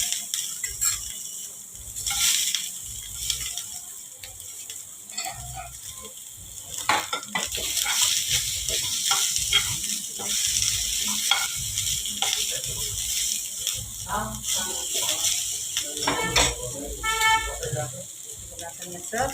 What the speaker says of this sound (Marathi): कांदा मी भाजायला टाकत आहे।